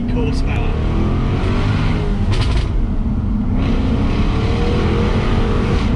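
Loud, continuous roar of a Jaguar XKRS with a 5-litre supercharged V8 on the move, heavy rumbling exhaust heard close and steady throughout, with a voice talking over it.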